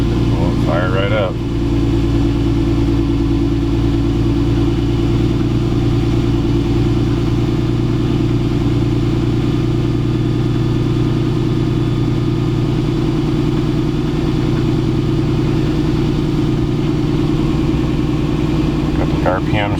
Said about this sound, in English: I guess we can go on ahead and just try and fire it up now and see if it'll run